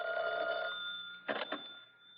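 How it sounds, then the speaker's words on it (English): A telephone bell rings in a hotel room as an old-time radio drama effect: a sustained electric ring, a short gap, then two more clipped bursts, clear and close with no voices. "the phone rang in my hotel room"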